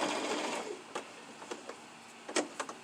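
A sewing machine whirs briefly at the start while stitching a drawstring face mask over wire, then falls into quiet with a few sharp mechanical taps and clicks scattered near the end.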